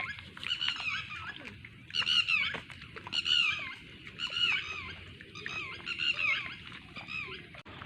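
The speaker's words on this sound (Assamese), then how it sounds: "এইফালে চৰাই একেবাৰে বহুত ধুনীয়া মাত দিছে" Small birds call outdoors near a rice field in light rain, their repeated chirps and short warbling phrases rising in bursts every second or so, fairly close but soft over a quiet background.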